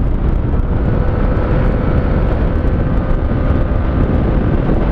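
A FKM Slick 150 motorcycle runs smoothly, a loud, steady, even rumble that holds constant throughout with no voices.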